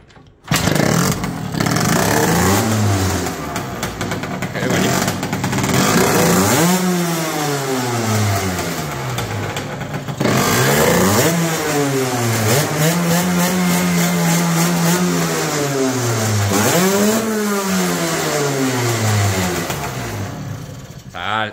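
Two-stroke motorcycle engine in a workshop, started and then revved repeatedly, its pitch rising and falling in loud, close bursts over a steady idle, with brief talk under the noise.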